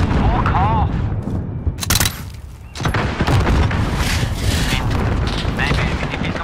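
Explosions and bursts of gunfire from an RPG and other weapons in Call of Duty Modern Warfare multiplayer, loud and close, with cracks and booms scattered through the gameplay and a player talking over the action.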